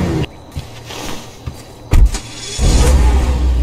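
A Chevalier Fugitive sedan in GTA 5 with a loud exhaust, its engine revving in a couple of rising bursts over a low idle rumble, close and with no talking.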